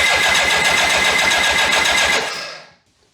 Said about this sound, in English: So let's crank it over, and hopefully I got good RPM measurements right here.